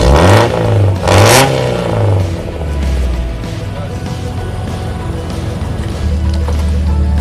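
A Suzuki Vitara 4x4 engine is revved hard twice, each sweep rising and falling sharply, then settles back to a steady, loud idle rumble close by.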